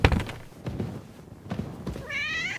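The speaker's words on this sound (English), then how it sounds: "Oh, it's a cat." In the video game Kingdom Come Deliverance 2, a cat lets out one clear, close meow near the end, after a few soft thuds and footsteps inside a quiet room.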